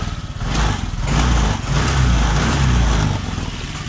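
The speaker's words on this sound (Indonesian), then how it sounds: "kita coba hidupkan motor" A Honda Vario scooter with a weak fuel pump runs steadily at close range, its low engine note holding a continuous idle with slight swells throughout, with no talk over it.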